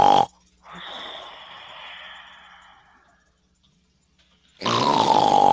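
A human voice imitates a dragon snoring: a long, rumbling, throaty inhale-like drone that trails off into quiet, framed by louder bursts of vocal sound at the start and end.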